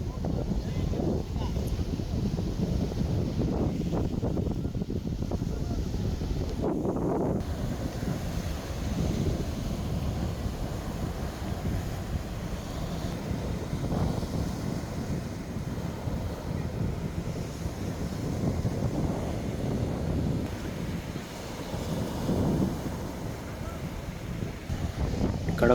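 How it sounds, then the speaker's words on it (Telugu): Strong wind blows across the microphone at Maliya Beach in Kuwait at sunset, a constant heavy rumbling buffet with gusty swells and faint surf beneath it, no voices audible. "గాలి మాత్రం బీభత్సంగా వస్తుందండి"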